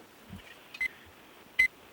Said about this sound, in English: Okay, I'll start my timer.